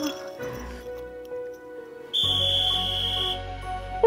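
A sharp, steady whistle blast sounds for about a second over a low rumble, following a stretch of quiet background tones.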